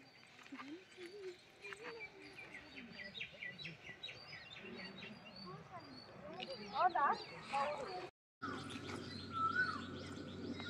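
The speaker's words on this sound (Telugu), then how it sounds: "ఓన్లీ బర్డ్ సౌండే ఉంది" Birds chirp and tweet among green village fields and mango trees, small scattered calls at moderate distance, mostly under people talking nearby.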